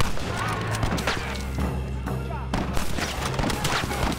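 Gunfire in the video game Red Dead Redemption, a rapid volley of loud sharp shots crackling over game noise with a brief pause midway, and a voice talking over it.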